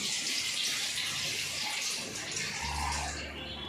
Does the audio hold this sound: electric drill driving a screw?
no